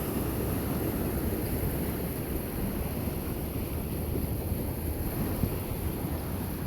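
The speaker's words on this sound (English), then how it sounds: "I don't know what kicked up those waves" Steady wash of waves against Benicia pier on a windy New Year's Day, a continuous broadband rush with constant wind buffeting across the microphone and no speech.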